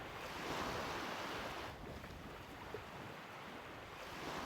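Broadband surf rolling steadily onto Roukounas beach on Anafi, Greece, a continuous wash of waves with wind rushing over the microphone, no voices.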